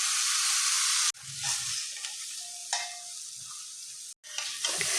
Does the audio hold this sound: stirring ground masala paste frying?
yes